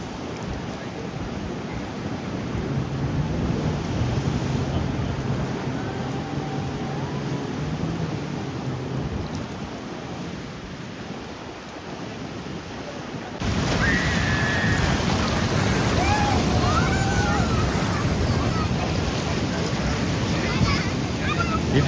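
Ocean surf churns and surges at Kiama Blowhole, Australia, as a continuous broad wash that swells abruptly louder midway and stays heavy. Faint voices sit underneath.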